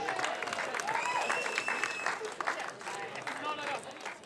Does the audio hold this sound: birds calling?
no